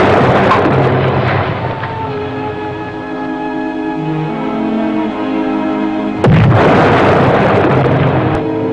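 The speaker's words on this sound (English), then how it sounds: "The depth charges started to come thick and fast." Depth charges detonate underwater around the submarine Tigershark, a deep rolling boom that swells and fades over several seconds before a second sharp, heavy blast erupts and rumbles on.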